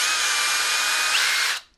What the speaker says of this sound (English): designed to fit into your drill driver so that you can basically then